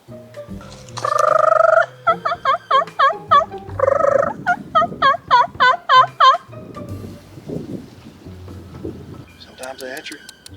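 Wild turkeys gobbling in a field, several loud rattling gobble bursts in quick succession near the start, followed by quieter rustling and murmured talk, with a fainter gobble near the end.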